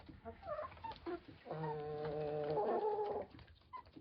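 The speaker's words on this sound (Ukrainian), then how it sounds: "Півник тут." Backyard village chickens and a rooster cluck close by as they are fed, with a sustained harmonic call in the middle over scattered softer clucks.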